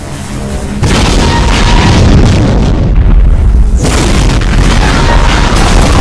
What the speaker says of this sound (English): Spreads of Demon Tech BFG shots